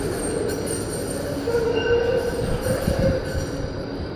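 A street tram rolls along its rails with a steady low rumble and a thin wheel squeal rising in the middle, heard close and continuous with no talk.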